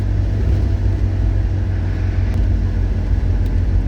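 A rescued diesel vehicle driving along with a steady low engine rumble, loud and close, running continuously without break.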